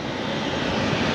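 An airplane landing close by, with a loud continuous engine roar filling the whole moment and no talk over it.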